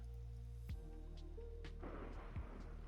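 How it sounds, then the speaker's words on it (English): Thunderstorm with rain in Minecraft: a quiet, low rumble and a soft hiss of rainfall that thickens midway, over a steady tonal background, with no voices. "Ooh, that's a thunderstorm."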